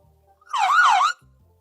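An emergency siren effect inserted during video editing, a loud wailing tone rising and falling in two sweeps for about half a second, standing alone between stretches of near silence and a faint low hum.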